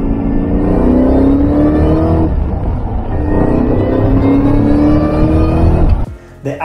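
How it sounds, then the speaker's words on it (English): A loud supercharged 2003 SVT Cobra Mustang engine revs hard with a rising supercharger whine over a deep rumble, climbing in pitch twice before cutting off abruptly. "We all know that the supercharger screams and sounds amazing."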